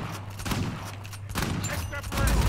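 Shotgun blasts in the video game Uncharted 4, a few loud, close booming shots spread across the moment amid ongoing game noise.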